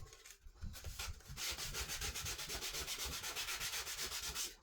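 Sandpaper rubs back and forth along the top edge of a wooden cutting board in a steady, fast rhythm of close, scratchy strokes, after a brief pause and a few slower rubs at the start.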